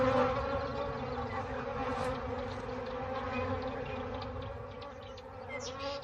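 Bees buzz steadily, a soft continuous hum from a swarm of insects, with a few louder passes near the end.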